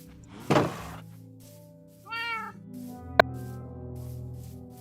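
A cat in a video game meows once clearly in the middle, surrounded by a soft rustle at the start, a sharp thunk near the end and a low steady background hum.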